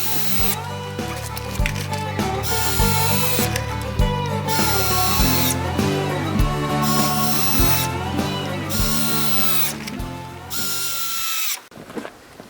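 A power drill drives screws into a wooden trap door for a wild boar trap, its motor whining up and down loudly and close in repeated bursts that rise in pitch as each screw seats.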